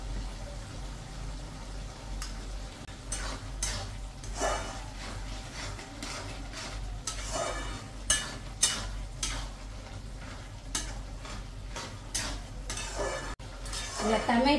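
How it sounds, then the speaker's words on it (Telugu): A spoon scrapes and stirs ridge gourd curry with coriander powder in a pan, giving repeated clinks and scrapes over a faint sizzle at close range. "తగినంత ధనియాల పొడి వేసుకొని బాగా కలుపుకోవాలి"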